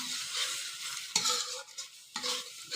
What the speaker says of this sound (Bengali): এখন আমি এটা কষিয়ে নেবো